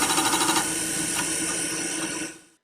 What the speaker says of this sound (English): That's the sound of the stepper motor pulling the head toward the outermost track by turning that spiral groove.